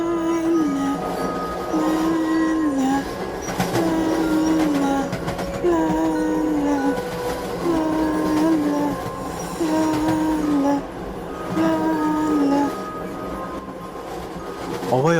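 A passenger train runs along the rails with a steady, loud rumble throughout, and repeating rising tones and faint squeals ride over the continuous clatter.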